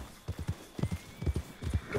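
Horse hooves clip-clop in the Red Dead Redemption video game, a run of quick, clear hoofbeats in uneven groups, fairly close and moderately quiet, with no speech.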